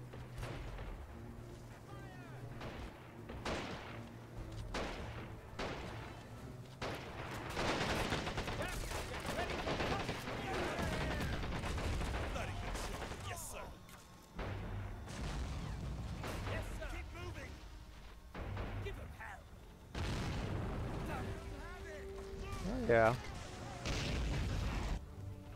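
Artillery blasts and rapid gunfire from the Men of War: Assault Squad 2 battle, a dense, continuous barrage of booms, bursts and pops over the whole stretch with some voices mixed in.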